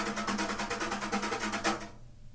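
Drums played softly at a fast tempo, a quick, even run of light strokes repeating in steady rhythm at low volume before stopping, with a brief ring fading after.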